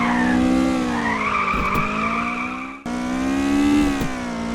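Engine of a racing video game car on the Usui Pass mountain course, revving loudly and steadily with rising and falling pitch, broken by tire squeal and a sudden gear shift or drop in the middle.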